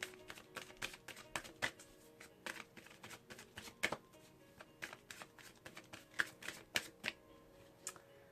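Quiet, close shuffling and drawing of Gateway Oracle cards by Denise Lynn: crisp, irregular flicks and riffles with soft papery slaps, alone and unaccompanied by speech.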